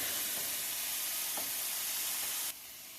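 Hot dogs frying in a pan on medium heat give a steady bright sizzle and hiss that drops suddenly to a quieter sizzle near the end, close and continuous with no talking.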